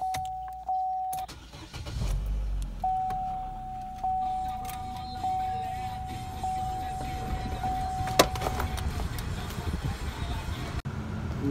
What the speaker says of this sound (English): start up the car and put that door panel on so we can go ahead and raise that window